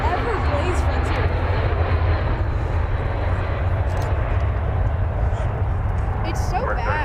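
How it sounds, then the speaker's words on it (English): An American Airlines Airbus A321 comes in to land, its steady engine rumble holding throughout while people talk nearby. "It's Flight 1667 coming in from Seattle, an Airbus A321 American Airlines"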